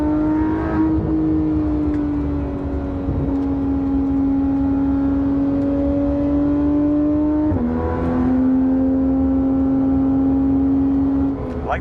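A Porsche 991.1 GT3 RS engine revs steadily at high pitch on a mountain skyway drive, easing off and climbing again twice, loud and continuous from inside the car.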